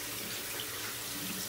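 Hot water pours steadily from a tap in a barbershop, a brief continuous close rushing hiss heard alone.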